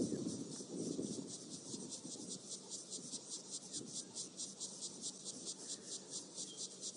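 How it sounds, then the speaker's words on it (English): Many cicadas of different species drone together in the African bush on a warming morning, a dense pulsing high buzz that throbs rhythmically and continuously, with a faint low rumble and murmur beneath it. "listen to all the insects going now as it starts to heat up. A whole lot of cicadas, different species."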